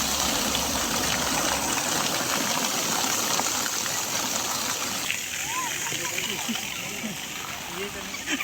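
Water flowing at Rashtrapati Nilayam, a constant rushing, splashing wash that fills the whole scene, with people talking over it.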